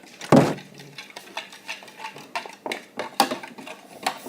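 A utensil clinks and scrapes against a bowl as a flour mixture is stirred, with one sharp knock at the start followed by a steady run of light taps and scrapes.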